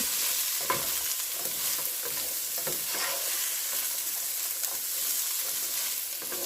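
A sausage, egg and potato mixture with onion and pepper sizzles steadily in a frying pan while a utensil stirs and scrapes through it in repeated soft strokes under the constant hiss.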